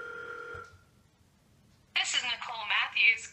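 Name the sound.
telephone call being placed, ringing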